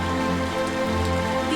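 Heavy rain storm, a dense steady patter of rain with a tonal background hum, brief and continuous.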